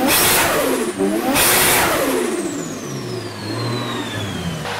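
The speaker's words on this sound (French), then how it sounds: "le son du 1JZ c'est quand même quelque chose" Toyota 1JZ engine fitted in a Nissan S14, revving hard in loud sweeping bursts that rise and fall, then settling into a lower droning note with a high whine trailing off, heard close with no talking.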